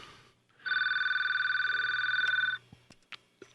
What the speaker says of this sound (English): I had a problem there for a minute with the phone ringing